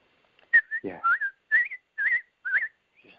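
A person whistles a short, lilting birdlike phrase, several rising and falling notes in quick succession, imitating a robin's song.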